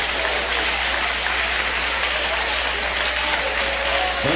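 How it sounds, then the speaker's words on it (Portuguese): A Pentecostal church congregation claps together, a dense, continuous wash of applause that holds steady throughout. "Eu quero ouvir palmas misturado com glória a Deus."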